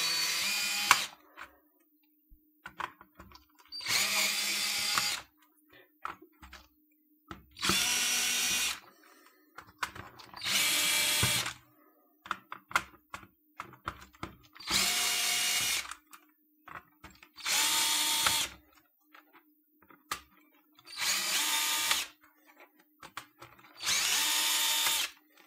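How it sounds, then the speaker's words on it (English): A power drill removes screws from a keyboard, running in about eight short whirring bursts separated by quiet pauses with small clicks and handling noises between them, close and clear. "we once again remove all these screws"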